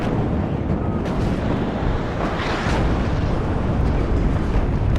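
Artillery shells land in a WARNO multiplayer battle, making a dense, continuous roar of rumbling blasts with a sharper burst midway, loud and steady throughout.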